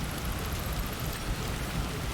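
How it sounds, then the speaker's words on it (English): Steady rain falls in the VR game Stormland, a dense, even hiss of drops that holds at the same level throughout with no voices. "It's raining now."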